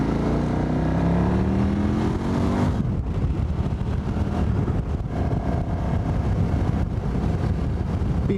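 A vehicle engine passes loudly and close, its pitch sliding in a Doppler sweep over the first few seconds, then a steady road roar and traffic rumble continue throughout.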